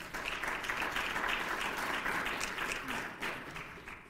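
A university faculty audience gives sustained applause, a dense, even patter of many hands that fades slightly toward the end.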